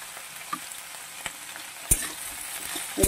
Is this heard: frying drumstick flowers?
yes